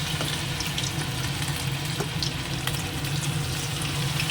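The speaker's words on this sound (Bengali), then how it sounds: "এবার এগুলো একটা একটা করে আমি তেলের মধ্যে তেলটাও তো দেখেছেন গরম হয়ে আছে ছেড়ে দেবো আর কমিয়েই ভাজবো" Chicken pieces for chilli chicken dropped one by one into hot oil and fried on lowered heat, giving a steady, dense sizzle that holds at an even level throughout with no voices.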